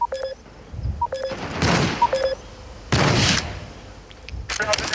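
Sniper shots and game beeps sound in the mobile shooter Critical Strike CS, with several sharp cracks at irregular intervals between electronic tones and bursts of noise, while voices talk in the background.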